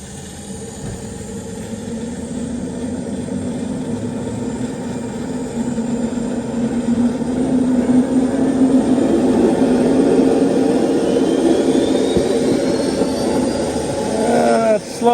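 A Jakadofsky Pro Edition model jet engine runs steadily after starting, a continuous loud whine and roar with a rising high tone near the end.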